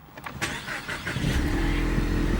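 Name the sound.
2018 Ford Mustang engine starting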